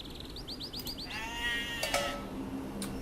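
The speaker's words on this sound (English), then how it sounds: "And he did find both his sheep and StratRebel's" Sheep in a real-time strategy match bleat in a quick run of short calls, followed by a longer, wavering bleat over steady game background sound, with a couple of sharp clicks.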